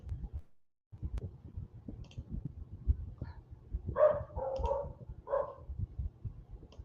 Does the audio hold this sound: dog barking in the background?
yes